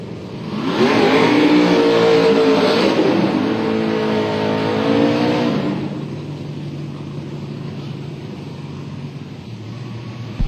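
Chevy LSX drag race car with Holley EFI on drag radials at Atlanta Dragway, a loud roaring engine climbing through the gears, then fading into distant rumble as it pulls away.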